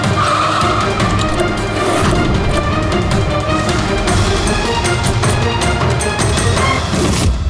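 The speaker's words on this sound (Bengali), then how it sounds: "হোয়াইট গাড়ি।" A white car skids hard, tires squealing and engine roaring loudly and continuously, amid dramatic noisy action with no one speaking.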